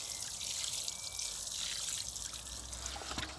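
Water is poured onto garden plants and soaks into dry soil, a steady close trickle and splash running for a few seconds with no talk.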